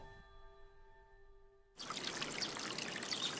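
Water flows steadily through a village channel in Japan: a dense, even rush that starts abruptly after a short quiet stretch with a faint tonal hum, then continues alone at a soft level.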